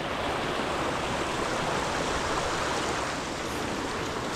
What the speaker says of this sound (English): There's a water crossing.